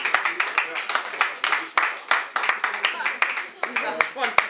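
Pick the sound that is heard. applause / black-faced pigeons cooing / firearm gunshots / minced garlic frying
applause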